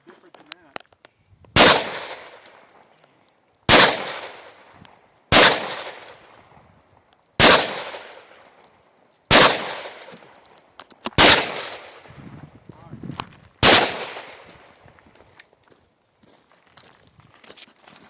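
Seven loud gunshots from a tube-fed shotgun loaded with .357 rounds, fired outdoors at an uneven pace roughly two seconds apart, each a sharp crack followed by a short ringing decay.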